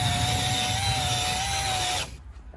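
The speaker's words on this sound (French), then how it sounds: "j'ai pris un balai à chiottes, j'ai pris ma perceuse" A power drill spins a toilet brush to scrub a Seat car, giving a steady high whine with rough scrubbing noise for about two seconds before the motor cuts off abruptly, leaving faint residual noise.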